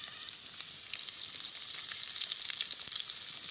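Continuous close sizzle of guinea pig and pigeon meat frying in oil, with scattered sharp pops and crackles over a steady hiss, heard alone.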